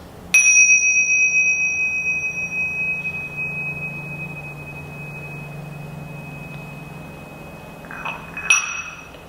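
A bright bell rings once to close a yoga meditation, a clear sustained metallic tone decaying slowly over several seconds, then a second strike near the end, in a quiet room.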